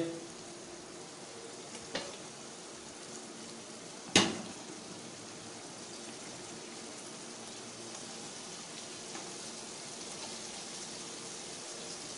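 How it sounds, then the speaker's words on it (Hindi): Chicken, about 1.5 kilograms, frying with tomatoes in a pot for chicken pulao, a soft continuous sizzle with one sharp clatter of a utensil and a lighter knock earlier. "चिकन को अच्छी तरीके से भुनाई करेंगे।"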